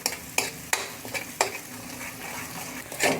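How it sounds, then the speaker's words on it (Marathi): Ground masala spice paste fries in oil in a pan for shev bhaji, with a steady sizzle broken by several sharp scrapes and clinks of a spoon stirring against the pan, close and moderately quiet. "आणि हा मसाला जो आपण मिक्सरमध्ये बारीक केला आहे तो मसाला टाकल्यानंतर त्याला मस्त फ्राय करून घ्यायचं आहे."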